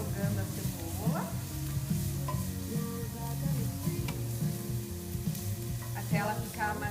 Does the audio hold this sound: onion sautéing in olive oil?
yes